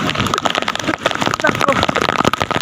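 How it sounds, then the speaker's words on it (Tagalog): Rain falls steadily during a fishing trip out on the water, a dense continuous hiss and patter close to the microphone, with people talking over it. "Talikod tayo sa ulan."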